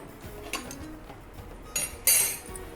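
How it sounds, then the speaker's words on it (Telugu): A metal kadai is set down on a stove with a few sharp clinks of pots and utensils, three distinct knocks spread across a quiet kitchen, the last one loudest and ringing briefly. "కడాయి పెట్టేస్తాను"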